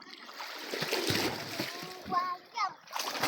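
A child leaps into a swimming spot at a campsite with a quick splash of water, while people talk and call out encouragement over the splashing nearby.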